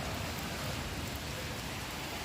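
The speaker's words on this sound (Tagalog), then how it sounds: "Tila na yung ulan, pero umaambon pa." Light drizzle patters at a beach campsite at Layag Layag Beach in Nasugbu, Batangas, a soft, even hiss that stays steady and alone throughout.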